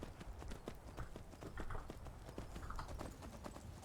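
Horse hooves striking the ground while riding in Skyrim, a fairly quiet, continuous clip-clop at a trotting pace with an even, steady rhythm.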